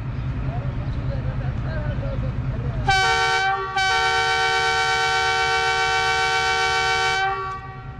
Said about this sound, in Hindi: डिपार्चर हॉर्न हो गया